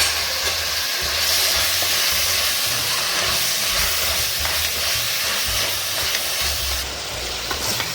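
Onions and chopped tomatoes fry in a pan with a loud, continuous sizzling hiss, close up and steady throughout, broken by occasional soft stirring thumps and no voices.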